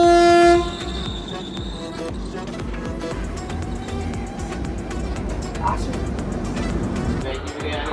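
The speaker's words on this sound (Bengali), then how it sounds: "ট্রেন ছেড়ে দিয়েছে" A departing train sounds its horn in a loud, sustained blast at the start, and the rumble and rattle of the moving train follow close by. A person talks over it.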